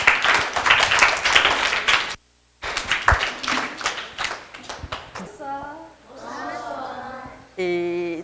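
Applause for children at a Christmas dinner: bursts of hand clapping from a small group, close by, mixed with voices talking, with a short silent gap partway through.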